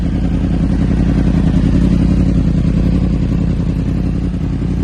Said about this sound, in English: let's just get up to about 170 and I'll rev it for you